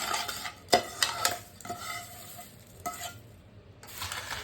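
A spoon stirs masala into a dry mix of twelve fried snack items, including cashews, giving irregular scraping rustles and a few sharp clinks against the bowl, fairly close and quiet, with no talking.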